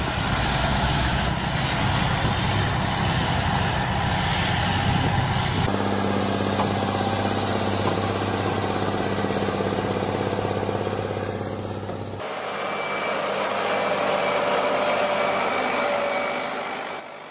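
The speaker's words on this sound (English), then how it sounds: "This is the forest tractor Valtra forest tractor logging in the wet and harsh conditions of the jungle." A Valtra forest tractor's engine runs steadily while logging in wet, harsh jungle conditions, a loud continuous drone throughout, with the tone shifting at abrupt cuts between segments and no talk.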